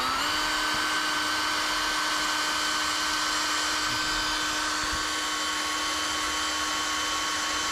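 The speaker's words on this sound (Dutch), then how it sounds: "Dan gaan we voorzichtig boren in de zijkanten." A power drill bores carefully into the sides of a panel during a home DIY job, giving off a steady, unbroken whine close by with no talk.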